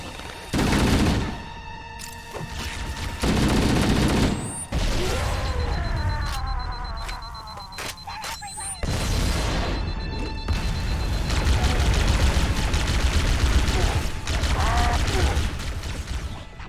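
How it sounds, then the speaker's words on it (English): Sustained gunfire from the shooter game Halo: Combat Evolved, with bursts of rapid automatic fire, booming impacts and mechanical weapon clatter layered through the whole stretch, loud and dense. "If all else fails, just follow the signs of gunfire."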